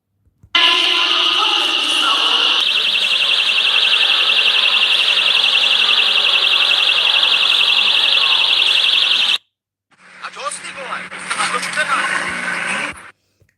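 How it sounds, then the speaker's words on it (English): Personal rape alarm tied to helium balloons, a loud, piercing continuous electronic shriek lasting about nine seconds that cuts off abruptly, followed by a burst of other noise. "So they attached a rape alarm to some helium balloons and just let them go."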